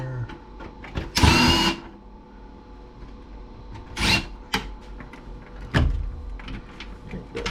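Screws come out of an Aiwa stereo being scrapped. Three loud, whirring bursts of a power screwdriver are separated by quieter clicks and handling knocks, all close by.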